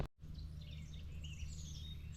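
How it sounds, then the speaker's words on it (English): Birds chirp and sing along a creek during a paddle, faint scattered calls over a quiet low background hum, with no talking. "these birds are just having a grand old time"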